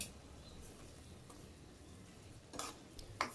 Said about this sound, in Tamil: பொடியோட பச்சை ஸ்மெல்லாம் போய் நல்லா வதங்கி எண்ணெய் லைட்டாக மேலே பிரிஞ்சு வர்ற வரைக்கும் நல்லா வதக்கிக்கலாம்